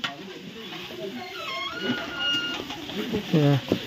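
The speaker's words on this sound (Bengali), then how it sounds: "এই হচ্ছে রান্নাঘর, আর এনারা রান্না করছে।" Aloo bhaja, potatoes frying in a busy mountain lodge kitchen at Sandakphu, with a steady sizzle and stirring under close conversation and a brief bright clatter near the end.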